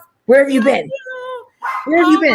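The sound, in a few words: dog barking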